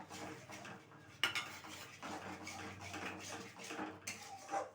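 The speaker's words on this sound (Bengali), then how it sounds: "সমস্ত উপকরণ খুব ভালোভাবে একটুখানি কষিয়ে নিতে হবে" Spices and green peas sauté in oil in a pan for a Bengali potato dum, with a utensil clinking and scraping against the metal pan in steady irregular strokes.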